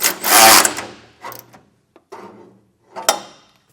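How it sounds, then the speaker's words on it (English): A ratchet tightens a 17 mm bolt while a hidden hitch receiver is fitted to a 2025 Volvo XC90, heard as a few short, close bursts of clicking separated by brief pauses. "this one is a little tight, so you will need to use a ratchet"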